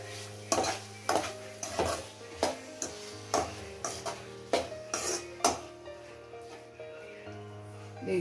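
Fried paneer is stirred into a restaurant-style fried rice pan with a spoon, making a steady series of scraping clinks about twice a second against the metal, with a faint sizzle and a low steady hum beneath.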